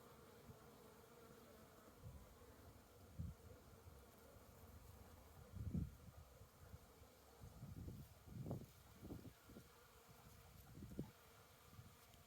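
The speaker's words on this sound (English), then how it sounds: "It sounds like I just walked into a beehive." Bees swarm over pollinator flowers in a dense, continuous buzz, with louder swells as individual insects pass close by. No one speaks.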